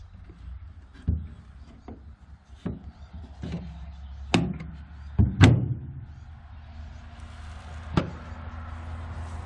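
Door of an abandoned Antonov An-2 aircraft hidden in bushes being pressed and shut, giving several sharp metallic clunks and latch knocks spread across the clip, one louder slam near the middle, over faint outdoor background.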